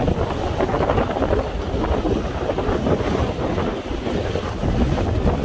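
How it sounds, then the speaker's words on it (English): Heavy wind roars over a constant wash of churning water as big waves break over the side of a sailboat, loud and unbroken throughout. "The waves are so big that they're breaking over the side of the boat now."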